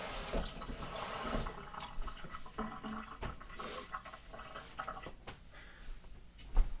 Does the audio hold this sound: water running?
yes